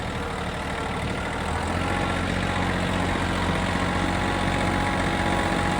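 A vehicle engine drones steadily while driving forward, a close, unbroken low rumble with broad noise over it and no voices.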